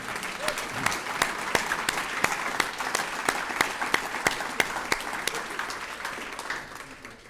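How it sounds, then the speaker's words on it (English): An audience at a community distinguished service awards event claps for the recipients, a steady round of applause with sharp rhythmic claps standing out near the front and a faint murmur of voices underneath. "How about another round of applause for all of our recipients tonight?"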